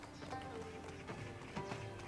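Horse galloping in Black Desert Online, a steady clip-clop of hooves running under a continuous bed of game music, fairly close and moderately loud throughout.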